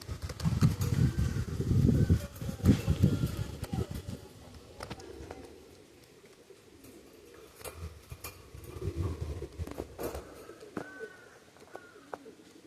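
Pigeons coo in a loft or pigeon keeper's coop, low soft calls strongest early on and again near the end, with light rustling and shuffling between them.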